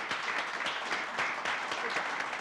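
An audience at a graduation ceremony breaks into applause, a dense, steady wash of many hands clapping at moderate distance, sustained for a couple of seconds with no voices.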